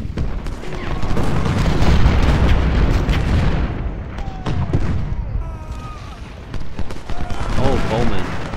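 Heavy booming cannon blasts and gunfire crash through a Civil War battle scene in the game Ultimate General: Civil War, loud and overlapping, with rumbling impacts and scattered shots continuing.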